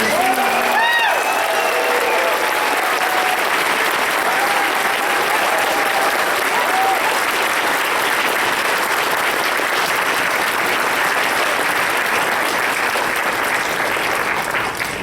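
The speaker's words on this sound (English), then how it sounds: "One more round of applause for Thornton, everybody." A large crowd at the Everfree Northwest 2024 convention closing ceremony gives Thornton a long, loud round of applause, with a few cheers and shouts near the start and sustained clapping throughout.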